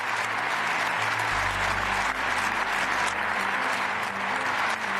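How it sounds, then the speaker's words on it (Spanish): Prolonged, steady applause from a large standing audience honoring Volodymyr Zelensky after his speech, a dense continuous wash of clapping with a low rumble underneath and no talking over it. "Aplausos y más aplausos"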